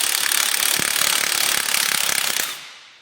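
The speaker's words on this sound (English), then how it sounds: "Using a 9/16 ratchet and wrench, remove" A 9/16 ratchet clicks rapidly and continuously, loud and close, while removing leaf spring bolts on an EZGO golf cart, then stops abruptly at the end.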